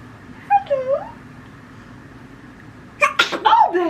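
A short voiced sound comes first, then after a pause a single sharp, close sneeze bursts out near the end of the clip in a quiet indoor room.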